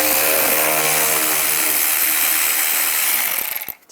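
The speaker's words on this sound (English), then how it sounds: "And then take these screws out. Use a T20 socket." A ratchet fitted with a T20 socket clicks rapidly and loudly while backing out screws on a 2010-2017 Chevy Equinox washer reservoir, a dense continuous rasp that stops abruptly near the end.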